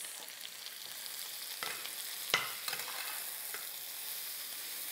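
Green pepper and carrot strips sizzle steadily in a pan with browned onions, a continuous hiss broken by a few scraping stirs and light clinks, close and moderately loud, no voices.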